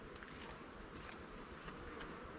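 Honey bees crawl over hive frames during an inspection, making a dense, steady buzzing drone that fills the space, close and even throughout with no voices.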